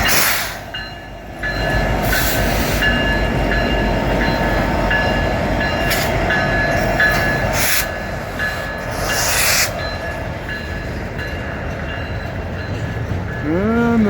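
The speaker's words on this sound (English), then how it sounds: "this train's been rolling by here about 10 minutes now" A long freight train pulled by Union Pacific Big Boy 4014 rolls past close by in Morgan, Utah, a loud, continuous rumble and clatter of railcars on the track that runs through the whole stretch, with no voices.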